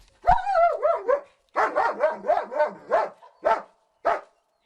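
A search and rescue dog barks loudly and close by in a string of about eight high, yelping barks with brief pauses, some drawn out like whining howls.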